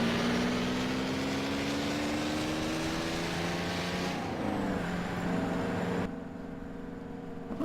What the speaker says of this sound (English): I better let the bus pass.